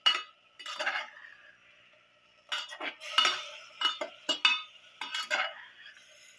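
A spoon clinks and scrapes against a metal pot while kingfish stew with pepper and garlic is mixed, in irregular bursts of stirring separated by short pauses, close and fairly loud, with no talking.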